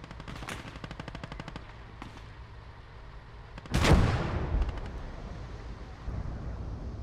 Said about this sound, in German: Die Schüsse hier oben drauf gekriegt, kann das sein?